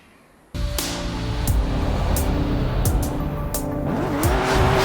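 A 2020 Toyota GR Supra Formula Drift car modified by Papadakis Racing with about 700 extra bhp, in Forza Horizon 5, starts abruptly into a loud sustained engine roar with squealing tires and rising revs, close and continuous.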